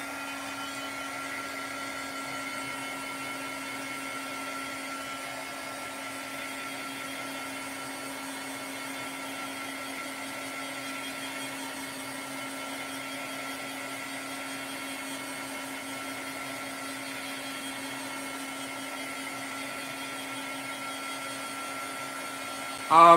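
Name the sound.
drying metallic paint, likely with a hair dryer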